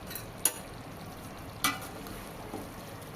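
Roasted peanut powder is stirred into a brinjal curry in a pan: a few distinct spoon scrapes over a low, steady simmering sizzle.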